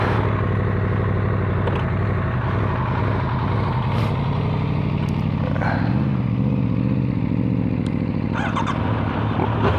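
A brand-new superbike on the street, its engine droning steadily and close throughout, with rising and falling revs, wind rush and a few brief clatters, loud and continuous with no talking.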